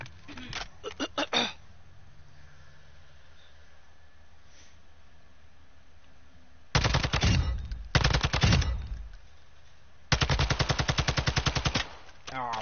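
Automatic gunfire from the video game Warzone comes in rapid bursts, first a quick rattle at the start and then two longer volleys after a quiet gap. The shots are loud and crisp.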